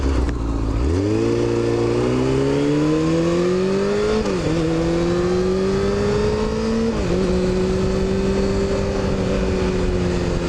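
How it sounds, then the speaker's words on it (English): A motorcycle engine fitted with a new sprocket accelerates hard, its loud revving pitch climbing, dipping briefly at two gear shifts and climbing again, with no talking. "Hearing some pseudo strange sounds from the engine"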